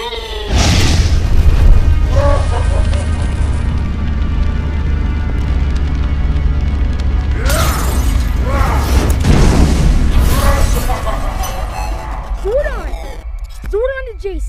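Explosion destroying the command center in a Power Rangers episode: a loud deep boom with rumbling crash debris sustained for several seconds, followed by sweeping electronic effects at the end, with dramatic music underneath.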